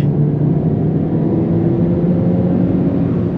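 An Alfa Romeo Giulietta Quadrifoglio under hard acceleration, heard as a steady, loud, low engine drone with road rumble from inside the car that continues unbroken throughout.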